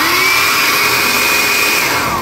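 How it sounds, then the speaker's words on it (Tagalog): A hotel hair dryer runs close to the microphone with a steady, loud motor whine and airy rush. The sound holds its pitch without a break for the whole stretch, and no voices are present. "Ito yung hair dryer niya."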